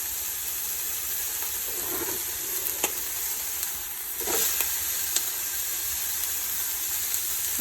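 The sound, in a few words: freshly chopped garlic and onion sizzling in a pan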